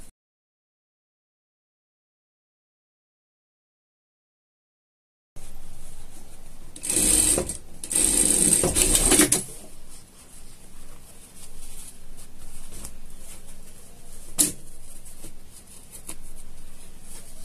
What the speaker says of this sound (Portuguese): vamos passar uma costura de segurança pra gente tá colocando a nossa lapela